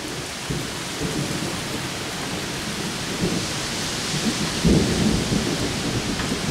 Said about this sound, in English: that was a lightning strike